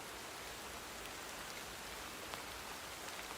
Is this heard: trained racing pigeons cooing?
no